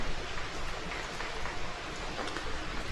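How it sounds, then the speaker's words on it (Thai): Rain falls steadily outside on a foggy morning, making an even, continuous broadband hiss at fairly high volume with no pauses and no voices. "แต่ว่าอากาศตอนนี้ ฝนตกเลยเป็นหมอกบ่เห็นอย่างเลย"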